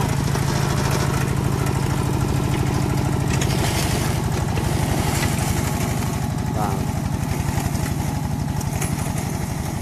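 A Cambodian-built tractor engine runs continuously during field testing on hard, dry soil, giving a loud, steady, rumbling drone with a regular throbbing beat that never drops out across the whole stretch.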